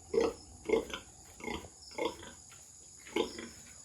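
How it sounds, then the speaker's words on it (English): Pig grunting during a nature walk in the Philippines, about six short, deep, nasal grunts in an uneven rhythm, close and clear over quiet outdoor background. "That is one massive pig."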